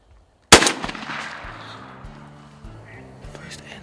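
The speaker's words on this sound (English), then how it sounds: "when Jordan shot that second time and didn't roll that bird, I was so deflated." A single loud, sharp shotgun blast fired at a wild turkey on a hunt, its echo rolling off into the distance, followed by low voices speaking nearby.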